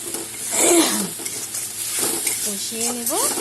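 Turmeric powder, Kashmiri chili powder and salt being stir-fried together in a pan, with a steady sizzle broken by a spatula scraping and clinking against the metal, plus a few squeaky scrapes near the end.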